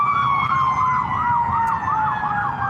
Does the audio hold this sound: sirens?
yes